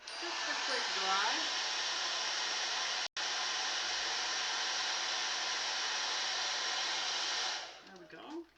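A hair dryer blows with a steady, loud whooshing roar, briefly cutting out once before running on and then switching off.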